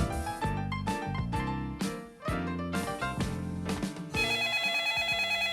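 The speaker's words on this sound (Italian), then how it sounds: "Orca Ciano, sta suonando il telefono." A telephone rings in a home during an Italian comedy scene, its bright repeating tone rising over lively background music without any talk.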